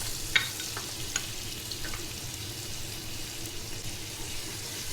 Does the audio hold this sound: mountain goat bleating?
no